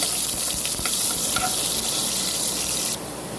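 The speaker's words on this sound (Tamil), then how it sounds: "எண்ணெய் காஞ்சதும் வெங்காயம் கருவேப்பிலை சேர்த்திக்கலாம் வெங்காயம் நல்லா ப்ரௌன் கலரில் ஆகணுங்க அது வரைக்கும் வதக்கணும்" Onion and curry leaves sautéing in hot oil for a coconut-milk mutton curry, a dense steady sizzle with faint stirring clicks that drops slightly in loudness near the end, no voices.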